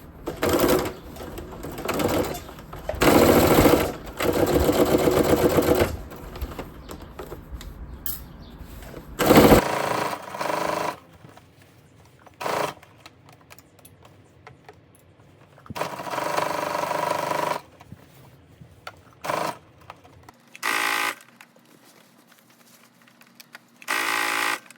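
Sewing machine stay stitching along the top edge of a pleated skirt, running in repeated bursts of steady buzzing with short pauses between, close and loud with no talking.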